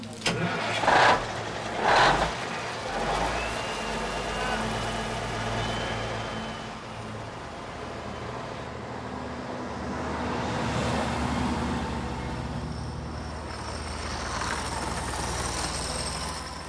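A diesel truck engine tows a vehicle up a mountain road, a steady loud rumbling drone with a couple of louder knocks early on.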